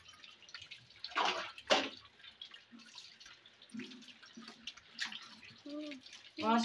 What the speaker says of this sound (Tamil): ஃபஸ்ட்டு ஸ்டெப்பு சோப்பில் யூஸ் பண்ணி நல்லா வாஷ் பண்ணிவிட்டு இந்த ப்ரஷ்ஷில் வாஷ் பண்ணும்போது